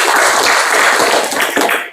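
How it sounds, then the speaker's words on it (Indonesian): A group of students at an Islamic boarding school claps together in a bright, dense burst that lasts about two seconds, close and loud, with no talk over it. "Tepuk tangan dulu"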